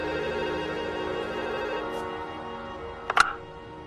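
A telephone rings steadily after a number is dialed, a faint continuous ring tone in a quiet room ending with a couple of sharp clicks as the line is picked up.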